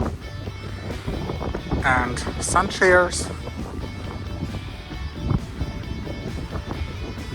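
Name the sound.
wind at the beach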